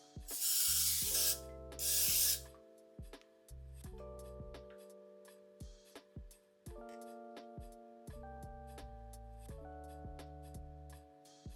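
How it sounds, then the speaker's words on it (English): Two short bursts of cooking spray hiss onto a baking pan over soft background music, followed by quiet clinks and handling sounds. "Spray the pan."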